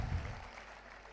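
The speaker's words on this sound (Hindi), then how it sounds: "एक बार जोरदार तालियां बजा दीजिए" Brief burst of applause from an audience at a comic poetry gathering, clapping blurred together and fairly soft.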